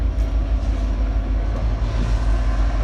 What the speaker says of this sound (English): Y'all can see the train going.